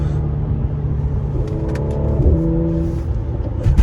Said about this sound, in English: the burbles on this are just so addictive